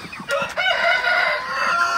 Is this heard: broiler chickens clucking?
yes